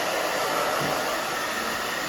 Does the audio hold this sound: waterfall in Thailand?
no